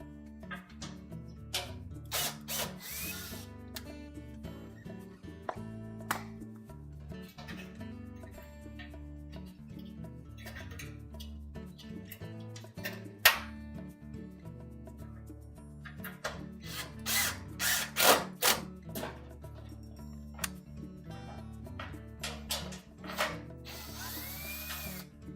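A power drill drives a retaining screw on the heater assembly of a GE dryer: repeated short whirring bursts with pauses between them, close and fairly quiet, with no voices.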